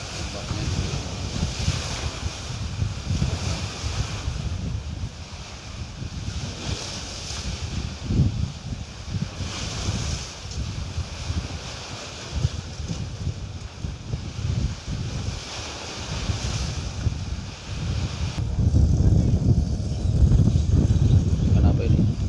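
Ocean waves wash against a stone-reinforced shore beside a seaside mosque, a continuous roaring surf with heavy wind buffeting the microphone that grows louder toward the end.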